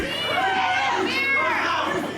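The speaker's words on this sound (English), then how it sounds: "You hear the crowd begging for it." Wrestling arena crowd roaring and chanting steadily through a championship match, a dense continuous swell of many voices with shouted tones rising and falling, loud and close throughout.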